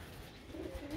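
Pigeons cooing nearby at a rooftop loft, a brief soft low coo rising over faint background noise.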